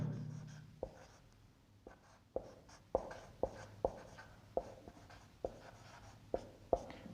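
A physics solution for a transformer numerical is written by hand with a pen on paper. Faint, evenly spaced scratchy strokes and taps repeat close by, with no talking.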